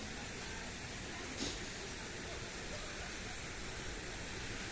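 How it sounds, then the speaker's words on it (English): Ambience of a hotel's main outdoor swimming pool area in Paphos, Cyprus: a steady, even wash of broadband water-and-air noise that holds for the whole stretch, with one brief soft bump partway through and no voices. "This is the main swimming pool area."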